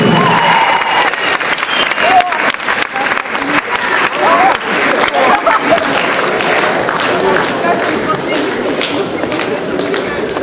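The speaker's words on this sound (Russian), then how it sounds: "Ваши аплодисменты сыгравшим командам." A hall audience at an international school league final applauds the teams, with dense, loud clapping sustained throughout and voices mixed into the crowd noise.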